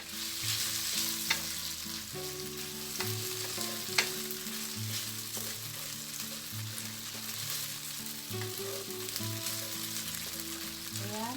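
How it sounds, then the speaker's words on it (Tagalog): Small cubes of meatloaf sauté in a pan with onion, giving a continuous crackling sizzle with occasional stirring clinks, while a steady tonal hum runs underneath. "Ayan, igisa lang natin siya na at least 2 minutes."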